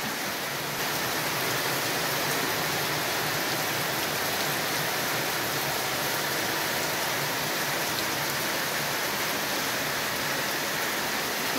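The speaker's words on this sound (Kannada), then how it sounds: "ಇವತ್ತು 8 ಗಂಟೆ ಆದರೂ ಇನ್ನೂ ಮಳೆ ನಿಂತಿಲ್ಲ." Steady, heavy rain falls without pause in the Brahmagiri forest, a dense, even hiss that stays loud and close from start to finish with no voices.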